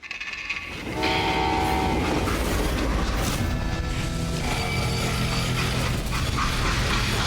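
Freight train in the Western shooter Call of Juarez: Gunslinger, a loud, steady rumble of rolling railcars that swells after a quiet second, with horn-like tones riding over the continuous roar.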